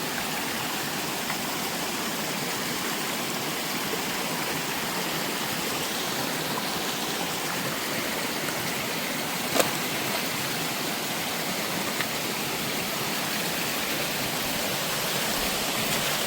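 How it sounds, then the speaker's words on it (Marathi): Floodwater pours across a farm field, making a dense, continuous rushing roar like a stream, steady and broadband from start to finish with a single faint click partway through and no talking. "संपूर्ण पाणी या बाजूने फिरलंय. वावरातून पाणी चालू."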